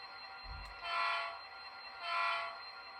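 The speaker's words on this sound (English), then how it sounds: "the crew can throw the switch, which allows the train to back up onto the Rocky lead" A model railroad train backs onto a lead track after the switch is thrown, sounding two drawn-out horn blasts, evenly spaced, over a faint low background hum.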